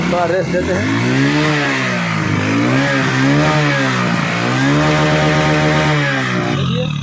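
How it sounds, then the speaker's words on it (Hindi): A motorcycle engine, with vapour and water coming from its silencer, runs loud and close, its pitch rising and falling as the throttle is revved repeatedly, steady and continuous throughout. "अभी हम इस बाइक को स्टार्ट करके आपको दिखला रहे हैं"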